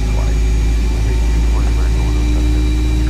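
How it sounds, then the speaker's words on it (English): A steady low rumble and hum with a faint whine above it, continuous and fairly loud throughout, as engine one of an A320 airliner spools up in the X-Plane 10 flight simulator. "Alright, engine 1 is starting here"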